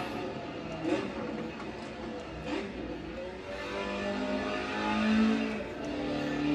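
Car engine in a VR racing game played on a 3 DOF motion simulator, a roughly 200-horsepower car: a steady, loud engine drone that rises and swells near the end, with a light skid-like texture and no talk.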